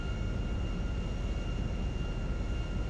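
A HondaJet HA-420 mod aircraft lands in GTA 5, heard as a steady, loud broadband engine roar with a faint whine, unchanging over a few seconds.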